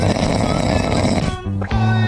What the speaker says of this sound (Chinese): 我家猫咪打呼的声音也很大。